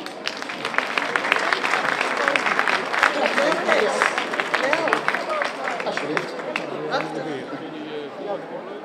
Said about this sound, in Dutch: Marianne de Bier, graag een applaus.